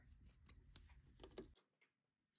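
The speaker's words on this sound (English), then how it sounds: "I'm going to trim these seams down so I won't have to sew over so much" Scissors trim the seams of a pair of jeans. Several quick, crisp snips come close together for about a second and a half, then a brief faint snip follows in quiet.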